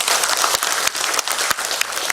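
Dense applause from an audience of officials at a formal event in Bali, steady and fairly loud, with a few sharper individual claps standing out from the mass.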